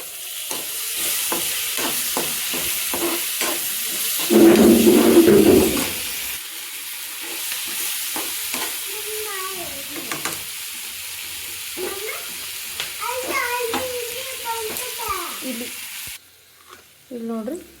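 Tomatoes, onions, capsicum and spices for a capsicum curry frying in a pan, a continuous sizzle with stirring scrapes, a louder burst of hiss partway through, then a quieter sizzle with a voice speaking over it.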